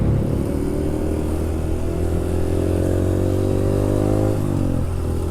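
Vespa scooter riding along Jalan Cibadak, its engine droning steadily up close with loud wind rumble, the pitch sliding slightly as it shifts near the end.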